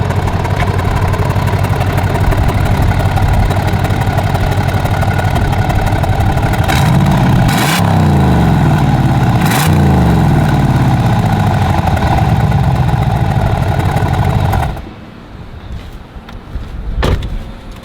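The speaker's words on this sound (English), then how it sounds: "I'm about to rev it while it's closed now." An SRT Jeep with its valved mufflers closed idles with a steady, close, loud rumble, then revs sharply twice in quick succession before the engine note cuts away near the end.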